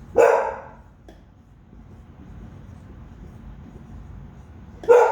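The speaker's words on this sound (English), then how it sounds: "Excuse my dog in the background." A dog barks twice in the background, one sharp bark at the start and another about four seconds later, with a low hum in between.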